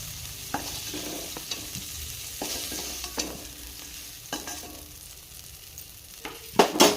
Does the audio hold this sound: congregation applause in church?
no